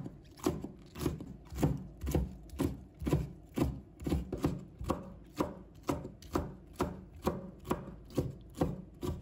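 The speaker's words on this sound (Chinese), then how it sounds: "再把它切成丝。" Soaked wood ear mushroom sliced into strips on a cutting board, a steady run of about twenty quick, close knife chops in even rhythm with no talking.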